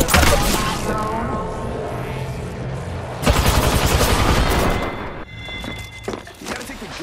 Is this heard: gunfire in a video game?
yes